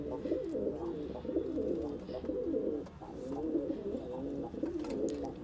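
Several pigeons, Patiala and desi breeds, coo steadily and continuously in low, throaty rolling calls, close by, with a faint background hum.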